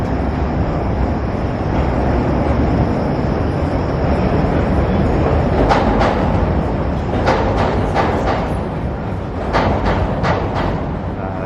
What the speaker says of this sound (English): Nice view of the L train crossing the Chicago River as it makes its way into the loop